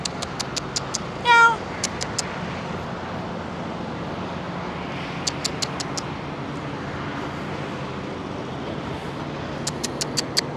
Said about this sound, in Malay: Kucing kat sini lawa tau, dia orang cakap.